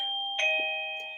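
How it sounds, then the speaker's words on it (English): A doorbell rings out in a two-tone chime, a sustained first tone sliding into a second, ringing clearly and decaying gently in a quiet room. "we have a delivery, that was our doorbell"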